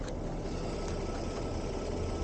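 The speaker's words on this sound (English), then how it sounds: "Get this big tractor coming." A big tractor engine on a rural street, a steady low rumbling drone that holds at a constant, fairly loud level throughout as the machine approaches, with no voices.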